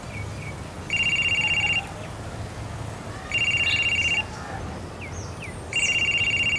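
A mobile phone ringtone sounds in three repeated electronic bursts with pauses between, fairly clear over outdoor background noise and faint bird calls, with no one speaking.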